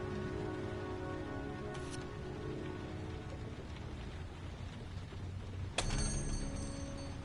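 Rain falls in a steady soft hiss with faint low rumble, fairly quiet, broken by a couple of sharp clacks near the end.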